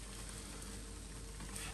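Pancake batter frying in a pan, a steady, close hiss of sizzling oil without a break and with no talking.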